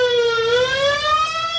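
A loud, close ambulance siren wails in a rising pitched sweep, steady and piercing with no voices over it.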